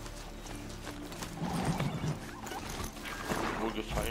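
Horse hooves clip-clopping at a riding pace in the video game Horizon Zero Dawn, a steady mid-level patter under game sounds and someone talking, with a brief whinny-like note.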